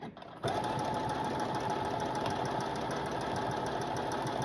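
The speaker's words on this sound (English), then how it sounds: "it's moving on its own" Home sewing machine stitching a buttonhole, starting after a brief pause and then running as a steady, even, fast whirring hum, close and continuous with no talk.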